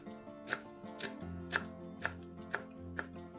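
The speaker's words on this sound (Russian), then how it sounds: "Мелко нарезаем пучок петрушки." A bunch of parsley chopped finely with a knife, a steady run of about seven crisp, close blade strikes roughly every half second over soft background music.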